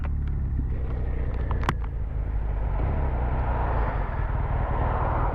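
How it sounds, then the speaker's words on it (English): Steady road traffic rumble heard from a motorbike stuck in roadworks traffic, a loud continuous engine and tyre drone with a brief sharper sound near the start. "And while I'm stuck here in the traffic, more roadworks"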